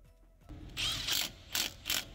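Ratchet clicks tightening rear brake caliper bolts on a 2021-or-newer Chevy Tahoe, in three or four short bursts of rapid pawl clicking, close and fairly loud.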